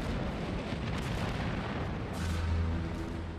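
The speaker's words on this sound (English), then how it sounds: "There was a huge explosion." The battleship HMS Hood explodes after a shell plunges through its deck armor into an aft magazine: a dense, continuous roaring rumble of blast noise, loud and unbroken from start to finish.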